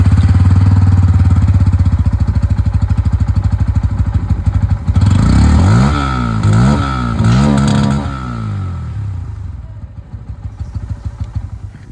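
A 160cc motorcycle with an underbelly exhaust idles with a steady low thump, then revs up and down in several rising and falling bursts before settling back toward idle, loud and close throughout.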